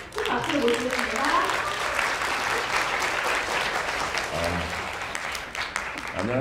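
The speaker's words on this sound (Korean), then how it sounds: "박동엽 교수님을 큰 소리로 큰 박수로 모시겠습니다" An audience at a Friday public science lecture applauds to welcome a chemical engineering professor, a full steady round of clapping with a host speaking over it.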